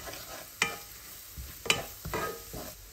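Panch phoron and garam masala spices going into a hot pan, with a few scraping stirs and soft sizzling bursts, close and fairly quiet.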